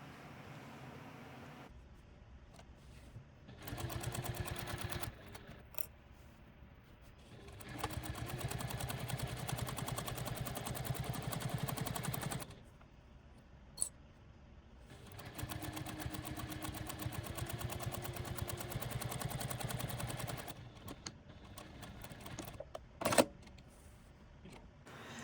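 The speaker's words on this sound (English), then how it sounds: "Then we'll sew that down, and then we'll fold it over and we'll sew it down to the back," Sewing machine stitching bias tape onto fabric, its motor running in several sustained bursts of a few seconds each with brief pauses between, steady and moderately near.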